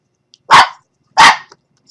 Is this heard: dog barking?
yes